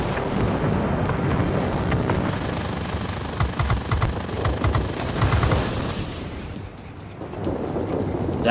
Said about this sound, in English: The storm is too heavy.